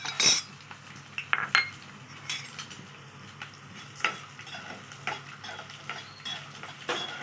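Garlic, urad dal and chana dal fry in a pan, giving a soft continuous sizzle punctuated by sharp scrapes and clinks of a stirring spoon against the metal, heard close and without talk.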